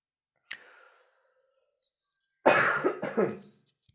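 A short click is followed by a pause, then a close, rough fit of two or three coughs from one person.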